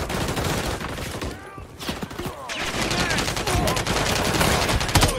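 Continuous video-game gunfire from Modern Warfare 3, a dense, loud fusillade of rapid shots and bursts running throughout with chaotic battle noise and no pause.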